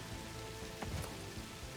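Steady rain patters on surfaces in the video game Satisfactory, forming a soft, continuous wash of drops with no voices over it.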